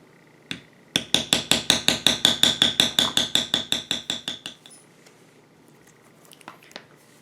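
A leather beveling tool is struck by a mallet in a quick, steady run of about twenty sharp taps close by, fading out, with a few faint knocks afterward.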